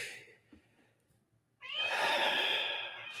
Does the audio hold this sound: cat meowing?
yes